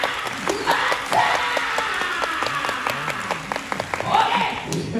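Audience clapping at the Universal Monster Live Rock and Roll Show at Universal Studios Japan, a steady crowd applause with dense sharp claps swelling near the start and again toward the end, with a voice talking over it.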